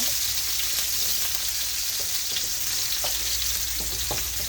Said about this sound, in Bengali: এখন আমার এখানে রসুন দিয়ে দিলাম বড়িটা রসুন দিয়ে বাগা দিব